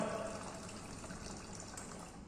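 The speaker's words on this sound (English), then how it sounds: "automatically the water start to pour out" Water pours steadily from an automatic RFID Arduino water dispenser into a container, a faint continuous splashing stream filling half a litre, heard alone and close.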